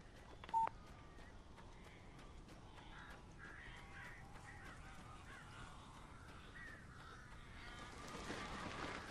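Crows in the Alan Wake video game caw faintly and repeatedly in the distance over a low, dark ambient background, with a sharp electronic beep near the start.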